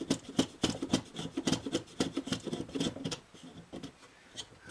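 Hardened glue is scraped off the neck of a Harmony Kay acoustic guitar during a neck reset, a quick run of short rasping strokes in an uneven rhythm, close and fairly quiet, with no talk.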